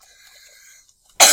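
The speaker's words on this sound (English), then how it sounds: "sorry for the cough" A single sharp cough bursts out close to the microphone after a quiet stretch of faint tonal background from a Minecraft-style game session.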